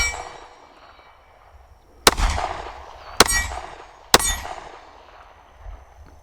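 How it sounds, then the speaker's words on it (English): Three sharp, loud pistol reports from a Glock 43X fired at a range, spaced about a second apart, each with a short echoing decay, with no other sound between them. "I've got 5 shots in each gun. First up, my Glock 43X."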